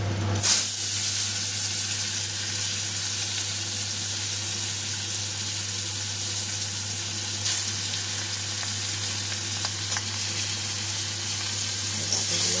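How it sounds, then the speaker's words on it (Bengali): Large prawn stalks frying in hot oil, a loud continuous hiss and sizzle that holds steady throughout, close up, with a low steady hum underneath and a couple of small clinks. "এবার এই মাছের বড় বড় ডাঁটিগুলো এগুলোকে আমি ফ্রাই করে নেবো।"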